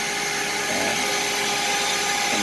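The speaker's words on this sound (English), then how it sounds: "The first toolpath is to drill the holes, and let's drill those 2 little holes in each side" CNC router drilling small holes in a wooden latch part, a steady, loud broadband whine of the spindle and cutting running continuously with no pauses and no voices.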